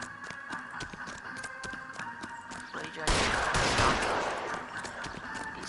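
Bursts of gunfire in a police-themed video game, with rapid repeated shots and clatter that swell into a dense, loud fusillade partway through, heard alongside game sound and a background voice.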